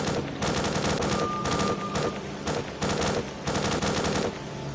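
Bursts of automatic gunfire from the video game S.T.A.L.K.E.R.: Clear Sky, set in a building in Limansk, come in repeated volleys of rapid shots separated by short pauses and sound moderately loud.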